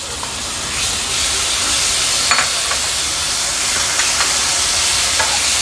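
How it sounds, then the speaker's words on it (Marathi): Crushed onion and tomato hit hot spiced oil with a loud, sustained hissing sizzle, steam-like and constant, joined by a few faint stirring clicks along the way. "आता या स्टेजला आपण हे कांदा टोमॅटो आहे ना अगदी क्रश करून घेतलंय ते ऍड करूया"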